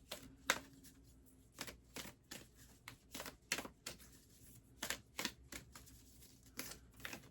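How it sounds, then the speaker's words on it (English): A small stack of craft color cards is shuffled by hand, making quiet, close, irregular papery flicks and clicks in quick bursts with no talking. "So I'm gonna just shuffle these up here."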